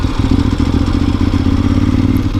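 A motorcycle engine runs steadily and loudly up close, a continuous low throbbing rumble with some clattery mechanical texture throughout.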